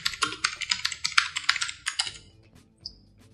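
Fast typing on a computer keyboard while entering text in After Effects, a quick close run of crisp key clicks for about two seconds, then a pause and one faint later tap.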